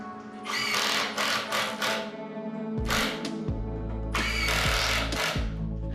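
A power drill driving screws into bathroom frame studs, heard as repeated whirring bursts that rise and stop, with a lower motor hum in between, close and steady.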